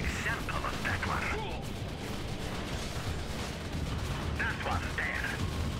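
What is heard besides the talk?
gunfire hitting King Oni, from video game Red Alert 3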